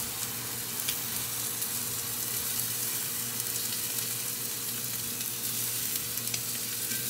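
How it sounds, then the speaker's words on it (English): Flat iron steak and rosemary sizzle steadily in a pan, a continuous close frying hiss with a faint low hum beneath and no talking. "add in my rosemary now while that steak is cooking"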